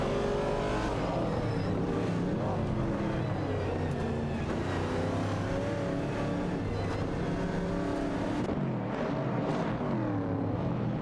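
Engine roar from racing cars in a video game, a Plymouth Barracuda and a 1969 Chevrolet Camaro battling for position, with steady loud motor drone, shifting pitch and layered engines throughout, no talking.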